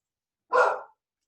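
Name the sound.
dog barking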